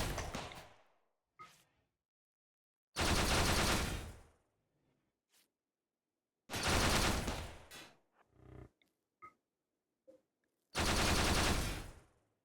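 Mechinoid turrets in a video game fire four long, loud machine-gun bursts, each roughly a second and a half, separated by near-silent gaps with small clicks and whooshes.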